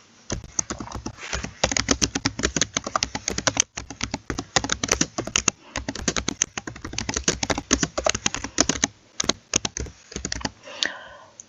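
Fingers type steadily on a computer keyboard while entering text into a spreadsheet cell, a close, crisp run of rapid key clicks with short pauses, alone and fairly loud.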